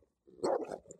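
A dog barks in a short, close burst of two or three quick barks after a brief silence, loud and clear with no talking.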